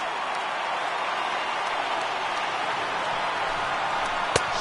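A baseball stadium crowd of tens of thousands roars steadily in a video game, a broad sustained wash of cheering with a sharp crack near the end.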